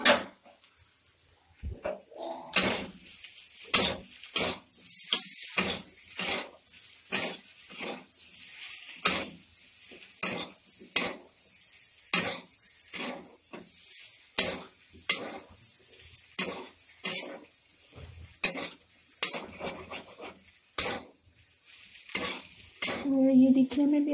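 Spoon or spatula scraping and clinking against a pan while mixing cut potato pieces during govi masala preparation, roughly twenty sharp metallic strokes at a steady rhythm, close and fairly loud, with faint sizzling between them.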